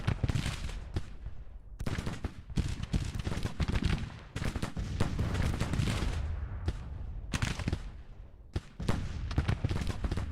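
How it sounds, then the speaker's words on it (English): Civil War musket volleys in the Grand Tactician strategy game, dense crackling gunfire in repeated bursts and ragged fusillades across the battlefield, some shots near and sharp and others distant, with brief gaps between volleys. "we are firing at the Indiana Brigade here"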